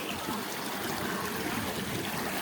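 Stream water flows through a rocky gorge in the Surghar range near the Salt Range, Pakistan, a dense, continuous rushing and gurgling heard close and steady with no pauses.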